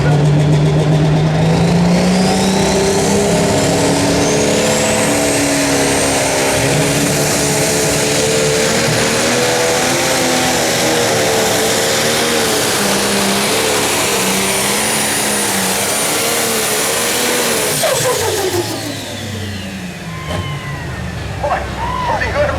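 A pulling tractor roars at full throttle through a tractor pull run at an outdoor summer nationals event in Freeport, Illinois, loud and sustained for about eighteen seconds before the engine cuts and fades, with an announcer talking over it.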